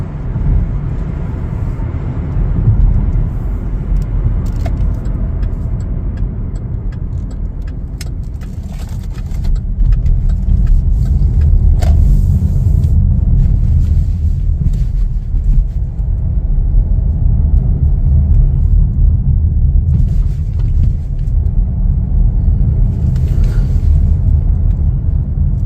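A 2023 Chevrolet Blazer 2LT cruises along a road, heard as a steady, low cabin rumble of road and engine noise that grows slightly fuller partway through, with no talking.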